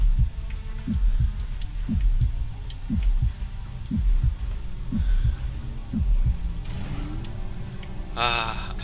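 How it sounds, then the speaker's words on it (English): Heartbeat effect in the video game Space Siege: steady, deep throbbing thumps repeating under a low hum, with a brief tonal electronic sound near the end. "I don't hear that heartbeat sound anymore."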